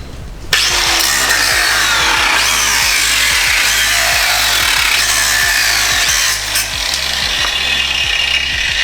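A power cutting tool trims into a fifth-generation Toyota 4Runner bumper, starting abruptly into a loud, steady grinding whine with a rapid rhythmic chatter underneath, running continuously with a brief dip near the end.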